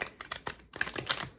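Tarot cards are shuffled and split by hand, making quick, crisp riffling clicks and flicks in a busy, close-up burst that breaks off briefly, with no talking.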